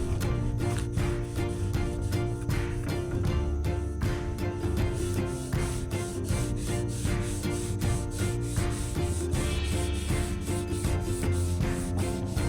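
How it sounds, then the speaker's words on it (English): 80 grit sandpaper rubs back and forth over primer on a fiberglass surface, a rhythmic, close scratching of steady strokes that continues without talk. "Once again with 80 grit sandpaper, I smooth down the surface, cutting through the primer until I begin to see the fiberglass underneath."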